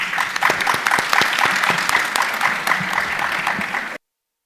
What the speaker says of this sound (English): Can we give that panel discussion another round of applause?